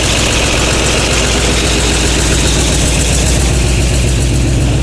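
A 1967 Ford FE 390 V8 in an F-250, with header bolts left loose, idles loud and close: a dense, steady rumble with a fast, even ticking clatter running through it and no voices.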